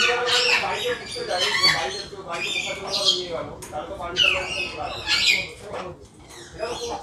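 Talkative exotic birds at a crowded fair exhibition squawk and chirp in busy overlapping bursts, loud and close, with a person talking over them throughout.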